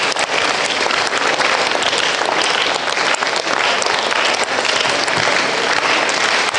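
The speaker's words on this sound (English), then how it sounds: "Clap your hands" Church congregation at a Resurrection Sunday service claps together, a loud, continuous wash of many hands that holds steady throughout.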